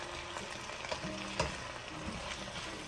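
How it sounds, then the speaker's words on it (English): Chicken and broccoli stir-fry in a hot pan, sizzling and crackling steadily throughout with occasional louder pops and stirring scrapes, close and continuous with no voices. "So you're just going to keep stir frying it."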